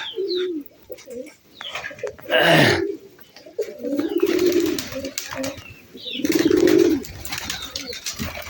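Pigeons coo in repeated low, throaty bursts, with a few soft chirps and a brief flurry of flapping wings between calls, all close and fairly loud.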